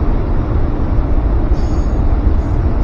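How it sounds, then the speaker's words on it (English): A very long freight train rumbles steadily past up close, a continuous low roar of rolling wagons with metallic rattling, no voices. "This train's probably like a mile long."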